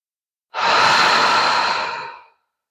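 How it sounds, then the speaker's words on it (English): A single deep, breathy inhale and exhale during a slow yin yoga class for distress tolerance, close and steady for about two seconds, alone with no talk. "Last breath in."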